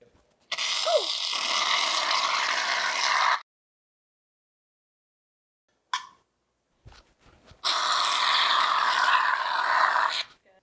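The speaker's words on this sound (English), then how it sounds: "Next, add 2 cups of shaving cream." Shaving cream hissing out of a pressurized can in two long sprays, separated by a quiet gap with a brief clatter and handling noise, for homemade slime.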